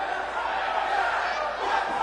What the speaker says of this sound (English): Even though the crowd continues to boo her, she continues to just smile and laugh in their face.